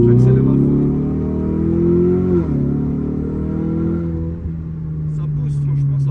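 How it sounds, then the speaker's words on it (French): A Ford Mustang in manual mode accelerates hard in second gear, its engine a steady droning rise that dips briefly at a shift before continuing, heard from inside the car and loud throughout. "J'accélère à fond."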